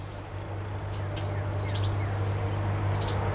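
Birds inside an old 1800s grain house give faint, scattered high chirps over a steady low hum and hiss.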